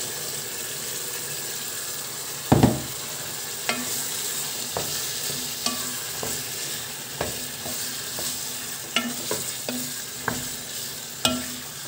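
Onions fry with paprika in a pot for Hungarian goulash, giving a steady sizzle broken by repeated scraping stirs and a sharp knock early on, close to the listener with no talking.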